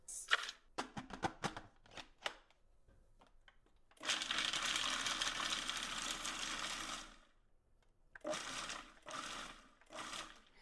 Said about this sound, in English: I'm going to get those into the food processor, get them chopped up